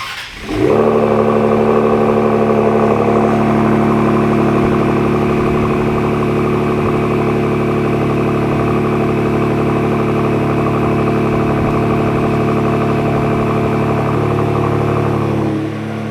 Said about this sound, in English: start it up, and let you hear what this exhaust sounds like on this 25 Explorer